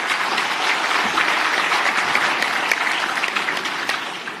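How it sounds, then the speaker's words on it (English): A congress audience at the Agri SA Congress applauds the agriculture minister Thoko Didiza, with steady, dense clapping from a large crowd that stays loud and even for the whole stretch and carries no talk. "Let's give her a great round of applause"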